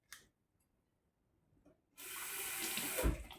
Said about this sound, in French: On va mettre de l'eau salée.